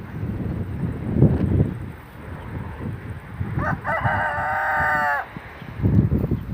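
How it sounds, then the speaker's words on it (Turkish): A rooster crows loudly over gusty wind, with chickens clucking and scratching nearby. "bunlar da bizim tavuklarımız böyle"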